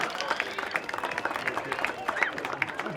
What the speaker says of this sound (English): Please give these seniors a round of applause for their 8-year dedication to the Pride of the Tribe program.